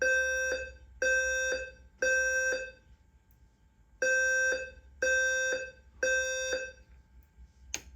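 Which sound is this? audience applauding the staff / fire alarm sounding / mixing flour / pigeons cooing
fire alarm sounding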